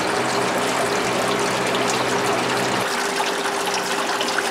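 Water trickles and splashes steadily off a DIY evaporative air cooler built with a honeycomb pad and a 20-gallon tank, mixed with a constant fan and pump hum. It is close and fairly loud, with no talking.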